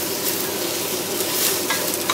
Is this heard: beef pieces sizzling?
yes